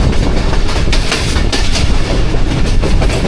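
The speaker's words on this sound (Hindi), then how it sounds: "नूर जंक्शन से थ्रू पास हो रही है 13 अप अवाम एक्सप्रेस।" The 13 Up Awam Express runs through Noor Junction in a loud, continuous roar of wagons, with steady clickety-clack rumble and rail noise close by and no voices.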